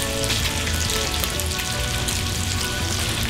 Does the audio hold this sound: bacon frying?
yes